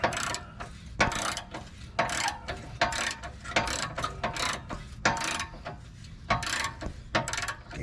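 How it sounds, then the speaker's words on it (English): A hand ratchet loosens rear bumper bolts on a 2002 Jeep Wrangler, giving quick, close bursts of crisp clicking repeated in a steady rhythm. "we'll use the ratchet real quick"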